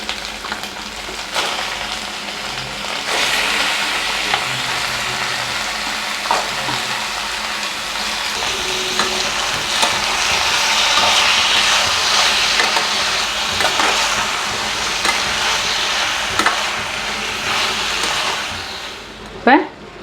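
Chicken pieces sizzle and fry in a pan for a green hariyali chicken gravy, a steady loud crackling hiss with occasional stirring scrapes, and brief talk near the end.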